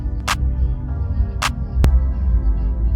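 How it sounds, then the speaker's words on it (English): Simple clap pattern in a piano beat: a few sharp, bright claps spaced unevenly over a steady low bass groove, fairly loud and close. "For the kick, I did some simple clap."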